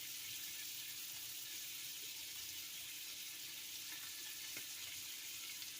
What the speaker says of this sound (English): And just keep frying.